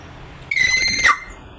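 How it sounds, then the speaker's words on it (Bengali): A pet myna bird gives a single shrill, whistling squeal lasting about half a second, close and loud against a quiet room. "ময়না ডাক দাও, ডাক দাও, আপারে ডাক দাও"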